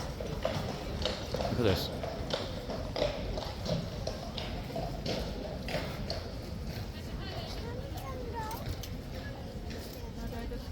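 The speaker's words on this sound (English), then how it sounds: "So watch those horses go in" Police horses walk into a packed crowd, their hooves clip-clopping in a steady close rhythm beneath constant crowd chatter and a person talking.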